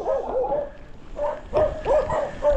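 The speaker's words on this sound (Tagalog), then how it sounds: "Abulin pa ng aso eh." A dog barks and yips repeatedly at cyclists on a bike ride from Manila to Matnog, Sorsogon, a run of short, fairly close barks with brief whimpering tones between them.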